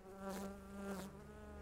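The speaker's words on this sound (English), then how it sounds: "It's one of those evil bees that transmit the zombie virus." Zombie bee in the video game Dead Rising 3 buzzing in a steady, droning hum that swells and fades slightly, faint and alone with no talk.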